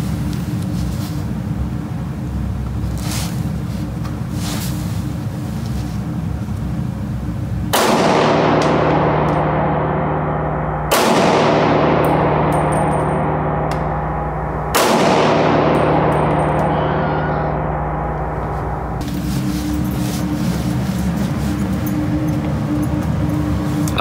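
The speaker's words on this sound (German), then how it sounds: "Wir werden 3 Schuss machen mit offener Visierung" Three loud, sharp rifle shots from an M1 Carbine fired with open sights at a 25-metre range, each with a ringing decay, spaced a few seconds apart over steady background noise.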